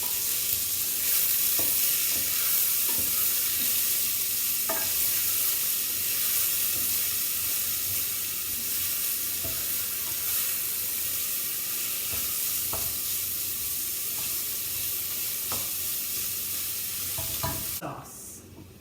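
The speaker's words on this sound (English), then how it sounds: "We mix it while I mix it so the bottom doesn't burn." Baked ziti sauce with ground beef being stirred in a pot to keep the bottom from burning, a steady sizzling hiss with soft scraping strokes and occasional clinks running throughout, fairly close.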